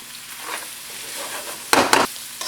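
Sliced onions frying in a pan for a Nigerian goat meat asun, a soft steady sizzle with faint stirring, then two loud bursts of crackling sizzle close by, and no talking.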